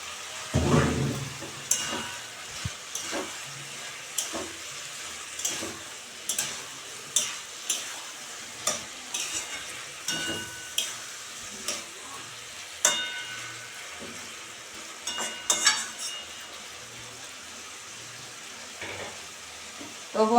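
Taro stolons (loti) frying in hot spiced oil for a shrimp curry, sizzling steadily with repeated scraping stir strokes at a close, even rhythm.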